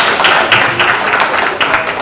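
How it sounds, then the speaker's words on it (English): Audience applause at the close of a neuropsychology conference workshop, a loud, dense patter of many hands clapping continuously. "Please have a big round of applause for yourself only"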